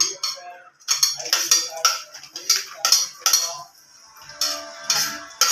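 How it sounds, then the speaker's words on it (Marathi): Semolina sheera ingredients being stirred together in a pan over a very low flame, with repeated metallic clinks and scrapes of a spoon against the pan in short uneven bursts, close and fairly loud. "हे जे आपले सगळे इन्ग्रेडियंट जे आहेत ते सर्व आपण याच्यात एक एक करून मिक्स करून घेत आहोत"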